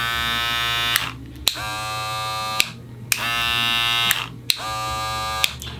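Electric hair clippers run in alternating bursts, their steady buzzing motor switching on and off several times, with one unit humming at a noticeably different speed from the other, close and fairly loud.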